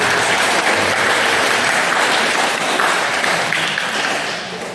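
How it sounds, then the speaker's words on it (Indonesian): An audience applauds a choir at a First Holy Communion celebration in a church, steady dense clapping filling the space from start to finish before easing slightly at the end. "Mari kita tepuk tangan untuk anggota KOR"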